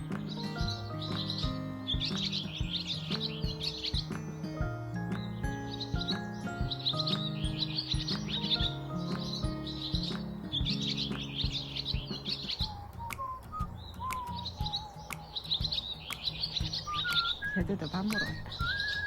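Birds chirp on a spring day with flowers in bloom, having come to feed: dense, steady bursts of high twittering fill the whole stretch, with clearer whistled notes joining near the end over a low background rumble.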